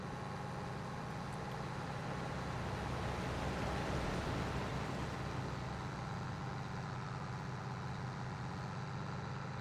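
A farm truck driving in Farming Simulator 22, a steady, low, rumbling engine hum that stays constant and moderately loud throughout, alone with no talking.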